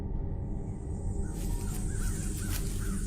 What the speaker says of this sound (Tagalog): Paminsan-minsan ay naririnig ko ang huni ng mga ibon